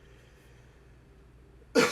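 A single sharp cough from someone with a lingering cold and mucus bursts out near and loud at the very end, after a quiet stretch of faint room noise.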